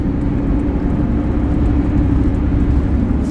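A manual car picks up speed after a shift into fifth gear, giving a steady, loud low engine drone and road rumble throughout, heard from inside the cabin.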